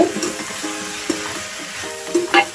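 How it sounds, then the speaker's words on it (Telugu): Raw banana pieces stirred in a hot pan, a loud steady sizzle with scraping strokes of the spoon and a few sharper clatters near the end, no voices. "ఒకసారి ఇలా కలిపేసుకోండి."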